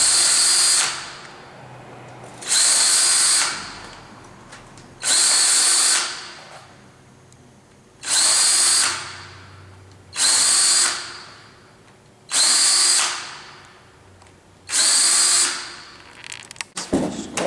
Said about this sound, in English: looks like we're drilled through